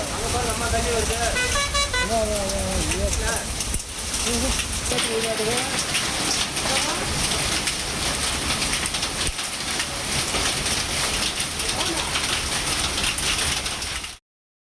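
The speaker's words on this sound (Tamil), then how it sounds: "லேசாக தொடங்கிய மழை பின்னர் ஆலங்கட்டி மழையாக மாறியதால் வீடுகளின் மேற்கூரைகளில் பட்டாசு வெடிப்பது போன்ற சத்தம் கேட்டது" Heavy summer hailstorm with rain pounding on house rooftops, a dense, loud, continuous roar and clatter of impacts with sharp cracking hits like firecrackers, while voices talk over it throughout.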